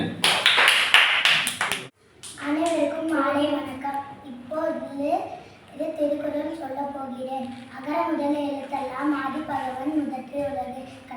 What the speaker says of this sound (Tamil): எல்லாரும் கை தட்டுங்க